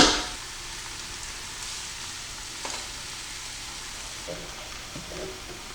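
Ground beef sizzling and frying in a pan with sautéed onions, garlic, celery, carrots and tomato paste, a steady hissing crackle with occasional stirring scrapes, close and continuous.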